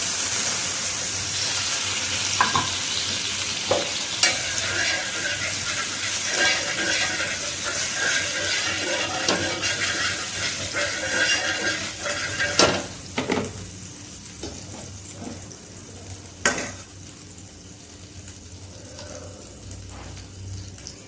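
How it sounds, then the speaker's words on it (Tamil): Dosa batter sizzles quietly on a hot pan, a soft continuous crackle broken by occasional clinks and scrapes of a ladle, with running water in a kitchen setting. "ஸ்டார் தோசை ஊத்துங்க"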